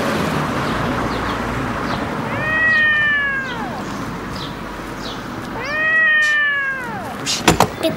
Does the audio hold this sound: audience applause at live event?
no